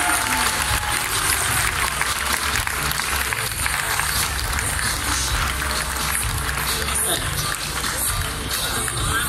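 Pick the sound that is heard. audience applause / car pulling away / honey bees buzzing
audience applause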